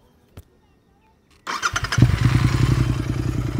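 A GT 650 motorcycle with a new AEW-103 exhaust cranks and fires up, then settles into a loud, throaty idle with a deep rumble, after a quiet moment and a single click.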